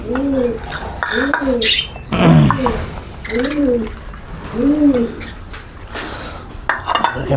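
Pet cockatiels at feeding time give five or six clear, rising-falling chirping calls at a fairly even pace, close by, amid clinking of dishes and food bowls.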